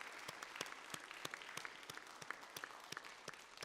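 Audience applause at a Hofstra University nursing convocation, steady hand clapping from a crowd, moderately distant and continuous.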